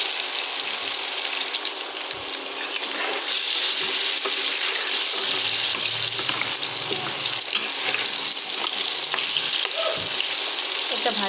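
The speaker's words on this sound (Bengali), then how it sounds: "আরও একটু ভেজে আমি লাল করে নেব।" Chunks of taro and potato fry steadily in hot oil, a continuous loud sizzle and crackle that holds for the whole stretch, with occasional faint stirring sounds and no talking.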